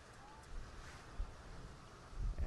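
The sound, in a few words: gust of wind blowing at a baseball field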